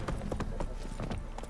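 Roach the horse galloping in The Witcher 3, a fast, close run of heavy hoofbeats in a steady rhythm, loud and alone.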